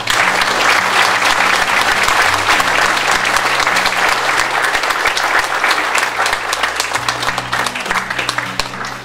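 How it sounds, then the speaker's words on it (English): Audience applause at a thank-you event, loud, dense and sustained from start to finish, with a steady low hum running underneath the clapping. "So I'd like to give a round of applause to Pádraig."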